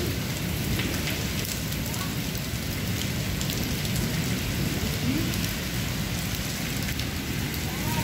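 Heavy rain from a black storm pours steadily over a village in Pakistan, a dense continuous roar with patter on surfaces and a faint rumble beneath.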